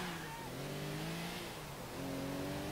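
A car accelerating in GTA IV, its engine note rising in steady pitch sweeps with a constant road roar underneath, held at moderate loudness for the whole stretch.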